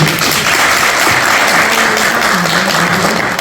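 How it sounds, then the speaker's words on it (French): Loud, dense audience applause at a Guinean community forum in Laval, sustained evenly throughout with no one speaking over it. "Veuillez applaudir pour eux."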